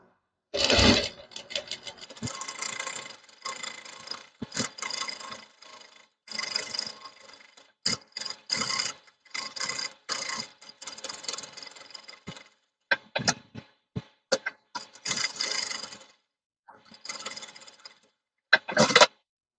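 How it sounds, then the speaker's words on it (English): A sewing machine stitches a 2 mm seam inside the outline of a child's bib, heard as close bursts of rapid mechanical rattling broken by short pauses. "I'm going to use my sewing machine, and I'm going to sew a 2 mm seam inside my outline."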